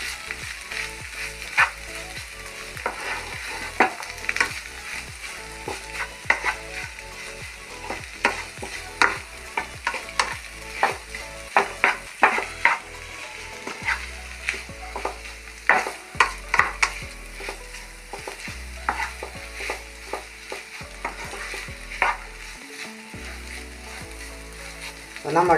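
Fried eggs get stirred into a sweet chilli egg roast masala in a pan, a steady sizzle under repeated scraping and clacking spoon strokes in an uneven rhythm, close and moderately loud.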